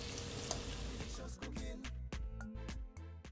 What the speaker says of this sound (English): Just gonna allow it to saute for at least 30 seconds.